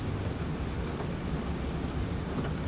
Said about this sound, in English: With this rain, we won't be able to track him.